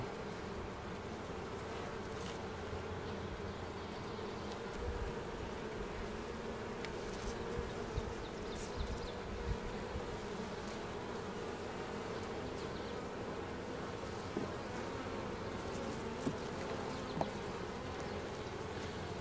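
Honey bees hum around a hive frame being worked among the wax combs, a dense, continuous buzzing that stays steady and close throughout.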